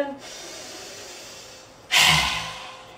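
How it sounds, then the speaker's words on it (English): A person takes a deep, audible breath in during a guided breathing exercise, a sudden loud rush of air near the mic lasting about a second after a quiet stretch of room tone. "Breathe in."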